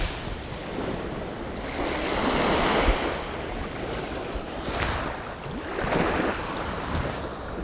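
Ocean waves rolling onto the shore, a continuous loud surge with several distinct breaking swells and gusty wind noise across the microphone.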